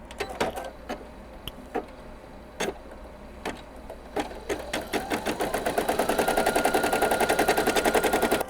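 An embroidery machine stitches an applique on a baby burp cloth, first with scattered sharp ticks, then settling into a fast, steady rhythmic chatter that grows louder toward the end.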